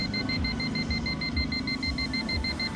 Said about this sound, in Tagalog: Pag mayroong malapit na object, automatic siya magbi-beep. So mas mabilis yung beeping sound niya.